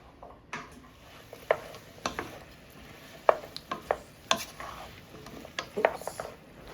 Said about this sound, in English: sauteed onions.